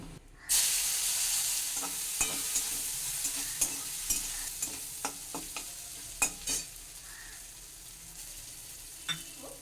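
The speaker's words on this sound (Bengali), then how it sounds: "এই নারকেলটা আমি এই তেলের মধ্যে হালকা করে একটু ভেজে নেব" Soft, steady sizzle of chopped coconut frying in oil over medium heat, with intermittent clicks and scrapes of stirring close by.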